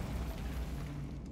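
Bombarda spell explosion in a Harry Potter video game, a close low rumbling blast with a dense roar that stays loud and slowly fades over a second or so.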